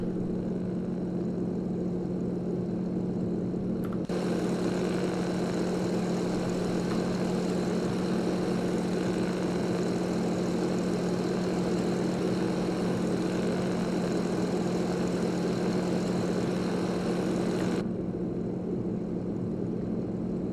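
Yakovlev Yak-18T propeller engine at full power in X-Plane 11, a steady, loud droning hum with a constant low tone that holds for about fourteen seconds before dropping back to a quieter idle-like drone.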